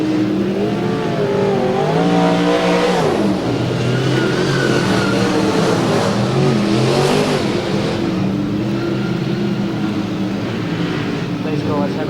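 V8 dirt modified race cars roar around a speedway track, engines revving and rising in pitch as they pass close by, with a commentator talking over the steady loud engine noise.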